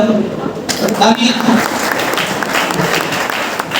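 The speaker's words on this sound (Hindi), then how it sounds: "इसके ताली हो जाओ" An audience at a spiritual talk breaks into loud, continuous applause after a speaker's voice, the dense clapping filling the rest of the moment.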